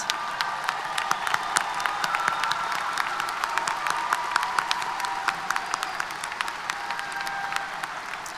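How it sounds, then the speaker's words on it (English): A large crowd applauds steadily at a spring university commencement ceremony in Texas, dense clapping filling the hall throughout with a few scattered cheers, with no speech on top. "could you please stand and help me applaud our newest group of members?"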